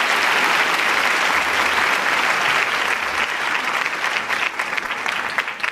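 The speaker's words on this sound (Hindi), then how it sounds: "आप सभी तालियां बजाकर उनका स्वागत कीजिए" An audience at a college function claps to welcome an education minister, producing thick, continuous applause that stays loud and steady from start to finish.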